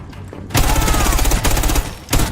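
Loud bursts of rapid gunfire in the video game Rainbow Six, a short pause and then more shots, sharp and close with no speech.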